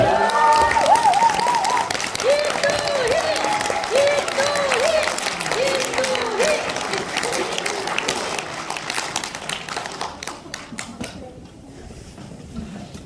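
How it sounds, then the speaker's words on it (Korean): A standing ovation from a large audience at a company event honoring its chairman, dense sustained applause under a speaking voice that gradually thins and fades toward the end. "한번 기립박수 부탁드리겠습니다."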